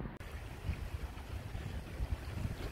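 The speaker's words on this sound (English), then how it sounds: "So we've got the water just free flowing down. This is the River Sheaf in Sheffield, going over the rocks." The River Sheaf in Sheffield flows freely over rocks, a soft, continuous rushing with low rumbling surges and some wind buffeting, quiet and without talk.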